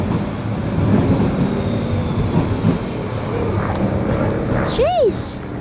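A DLR train on London's Docklands Light Railway arrives, its steady rumble and rolling wheel noise filling the clip, with a brief rising and falling squeal near the end.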